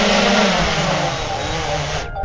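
A DJI Air 3 drone flies in close to land, its steady broadband whine loud and continuous before it cuts off abruptly at the end.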